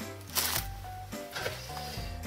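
Headphones are unboxed from their packaging, with close crinkling, rustling and sliding of cardboard and plastic in a few quick bursts and no talking.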